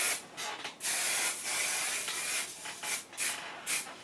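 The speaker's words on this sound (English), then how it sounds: "want to spray just enough for the curls to stay in" Hairspray from an aerosol can misted over freshly curled hair in several short, close hissing bursts with brief pauses between them.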